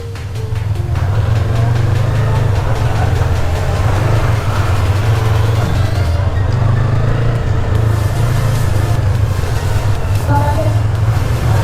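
A new Yamaha MT-03 motorcycle engine drones steadily while riding on a warm-up lap, a loud continuous low-pitched hum with throttle held fairly even, overlaid by wind rush throughout.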